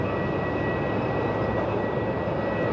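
Airliner on approach into Melbourne Airport: a steady, broad jet engine roar with a faint high whine, continuous and moderately loud, with no voices.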